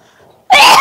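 A single sharp cough bursts out close and loud after a near-silent moment, harsh and brief.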